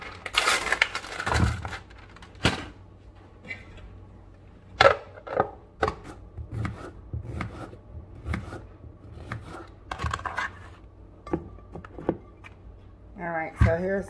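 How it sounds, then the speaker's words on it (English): A knife chops cucumbers and other vegetables on a cutting board in a home kitchen. The irregular crisp cuts come close and are heard alone, ending with a brief rustle. "Then I get back on chopping up my veggies"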